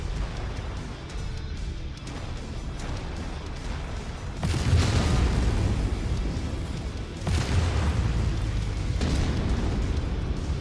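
Mech weapons fire and explosions rumble through a MechWarrior 5 battle, a constant heavy low roar punctuated by two sudden loud blasts that swell and sustain, dense and close with no speech.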